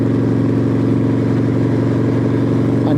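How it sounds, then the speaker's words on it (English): Exhaust of a Yamaha Warrior 1700 motorcycle ridden at night in winter, a steady deep loping rumble close by, loud and continuous, with a slight rise in pitch near the end. "I know you can hear that exhaust though"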